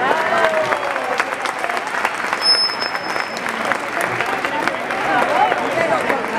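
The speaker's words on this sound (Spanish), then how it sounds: "Se merece un aplauso." Loud, continuous crowd applause at a Women's Day mariachi youth performance, dense clapping from many hands with some voices calling out beneath it.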